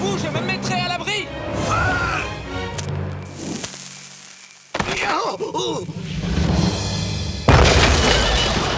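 Cannons boom in a Zorro cartoon battle at Monterey, heavy cannon fire rising over shouted voices, with a short lull before loud crashing blasts return.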